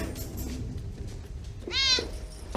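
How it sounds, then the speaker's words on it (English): A cat in the 1999 film The Matrix gives a single short, clear meow over a low, steady background hum, with no talking. "A black cat went past us, and then another that looked just like it."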